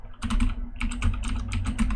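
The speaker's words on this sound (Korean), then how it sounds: "요거는 딱 대놓고 타이핑 한번 쳐드릴게요." Rapid, close keystrokes clatter on a computer keyboard in continuous bursts, loud and dense with brief pauses, with no talking.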